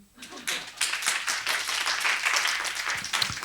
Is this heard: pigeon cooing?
no